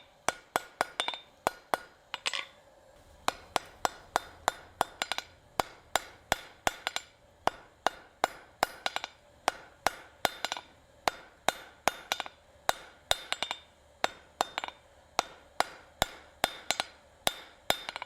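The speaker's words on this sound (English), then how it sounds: "Now that we think we've got a good forge weld going there" A hammer strikes a hot forge weld on an anvil in a steady, ringing rhythm of dozens of close, bright metallic blows, with brief pauses here and there and no talk.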